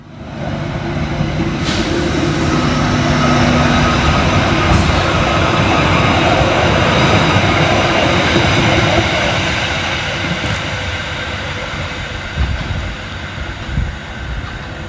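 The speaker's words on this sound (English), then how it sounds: "next out to depart is 777-152 with the 11:04 Merseyrail electric service from Liverpool Central through to Headbolt Lane" Merseyrail class 777 electric train pulling out of a station, a loud broad rumble and hiss that swells and holds, then gradually eases as it moves off, with no talk.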